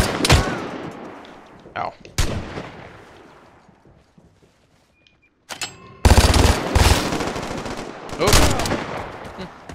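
Gunfire in the online shooter Vigor, loud bursts of rapid shots near the start and after a quiet gap, with a player calling out in pain over it.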